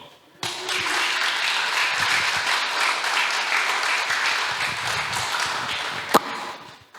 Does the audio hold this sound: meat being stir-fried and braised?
no